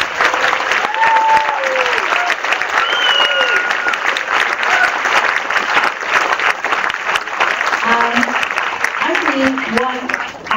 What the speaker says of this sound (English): Please give you a biggest applause for them.